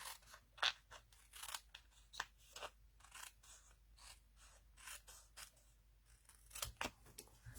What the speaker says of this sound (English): I'm cutting it down to size.